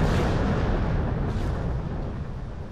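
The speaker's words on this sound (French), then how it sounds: "c'est l'explosion du vaisseau amiral français l'Orient" The French flagship L'Orient, a large warship, explodes in battle as a deep, powerful roar that rumbles continuously and slowly fades over a few seconds.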